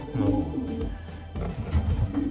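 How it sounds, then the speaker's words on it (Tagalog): Pigeons coo at close range in a breeding setup, with low soft throaty calls repeating in overlapping bursts. "Ang saya talaga masaya mag-breeding mga kalapatids."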